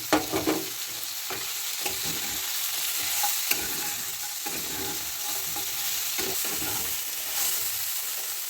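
Fried lentil dumplings (bori) tipped into vegetables frying in a pan, giving a steady sizzle under scattered clinks and scrapes of stirring, with a few sharper knocks near the start.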